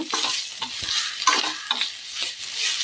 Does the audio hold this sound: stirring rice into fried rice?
yes